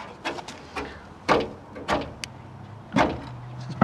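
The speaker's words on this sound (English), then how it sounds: "it's the first time this door's been open for God knows how long" An old Fiat Panda 4x4 door, long unopened, creaks and clunks as it is opened, with a series of short scraping and knocking bursts spaced irregularly, close up and fairly loud.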